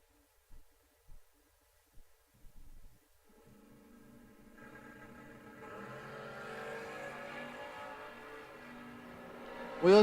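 Drag racing cars launch from the start line at the Hose Connection Spring Stampede: a few soft thumps, then a distant engine roar that swells and holds, growing steadily louder.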